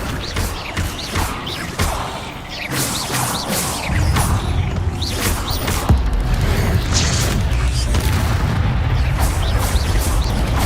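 A summoning spell from a Harry Potter video game bursts out in a loud rush of booming, crashing impacts and rumbling mechanical clatter, dense and sustained throughout.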